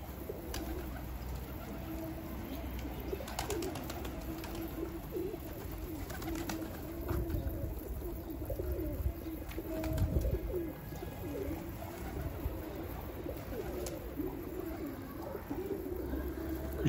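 Pigeons coo repeatedly at a backyard coop among other birds, a steady low throbbing cooing with scattered chirps and a few rustles over outdoor background noise.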